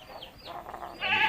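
A chicken with a respiratory illness, wheezy and snoring with mucus, gives a raspy, congested breathing sound close by that swells into a louder, strained, bleat-like rasp at the end.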